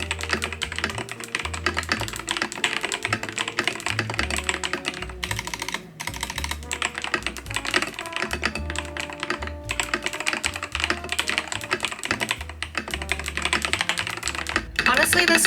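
Rapid, continuous clatter of keys on a computer keyboard, close up, with steady typing rhythm and occasional brief pauses.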